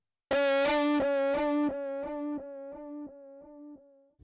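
A gritty, heavily saturated vocal chop from a pop song production repeats in a steady echo trail, each repeat a little softer and duller as the delay fades out over several seconds.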